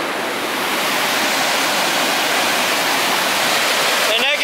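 Water rushes loudly and continuously through the intake of a small hydropower plant, a dense close roar carrying floating debris along, with a brief faint sound near the end.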